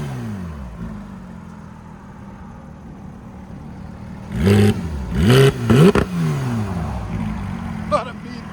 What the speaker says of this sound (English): Go ahead and give it gas again. Valves open, right?